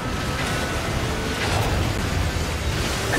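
A heavy, continuous blast of rumbling energy with crackling bursts, like a cannon-style special attack in NieR:Automata roaring on without a break.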